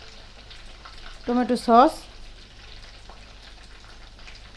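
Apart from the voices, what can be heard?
meat frying in a pan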